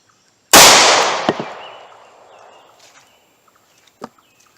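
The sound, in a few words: 38 Special Winchester Silvertip pocket gun shot into wood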